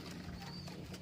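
A racing pigeon coos softly, a low, throaty murmur held against a quiet background in a brief, close moment with no talking.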